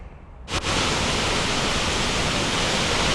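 Steady broadband rush of flowing stream water, close and loud, starting abruptly about half a second in after a quieter moment and holding constant to the end, with no voices.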